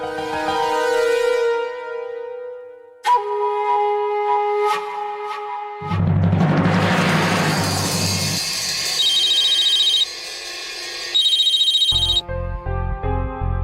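A phone ringtone plays as a loud musical melody, changing pattern several times across the span with no talk over it.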